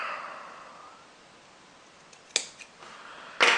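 Scissors snip through material during a hair-product demonstration, two short crisp cuts after a quiet stretch of faint rustling, close and fairly loud against a hushed background.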